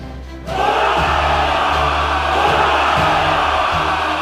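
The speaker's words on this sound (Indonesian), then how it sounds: "Suara sorakan massal langsung meledak secara serentak dari seluruh penjuru halaman benteng" A large crowd in a fortress courtyard suddenly erupts into loud, sustained cheering and shouting that holds steady and fills the space.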